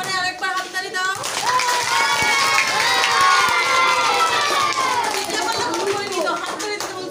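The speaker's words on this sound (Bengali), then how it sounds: "সবাই জোরে আরেকবার হাততালি দাও" Schoolchildren at a primary school in Alamdanga clap loudly, and the clapping is mixed with a lot of excited shouting and cheering voices from the crowd of kids. Everything is close and loud throughout.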